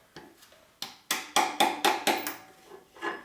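Several sharp hammer blows strike the pins of a motorcycle chain link during work on a 1973 Harley-Davidson Aermacchi X90, coming close and loud in a quick irregular series with no talk.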